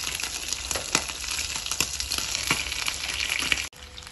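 Chicken pieces drop into hot desi ghee for a restaurant-style karahi, giving a steady dense sizzle broken by a few sharp crackles and pops, close and continuous until it cuts off abruptly near the end.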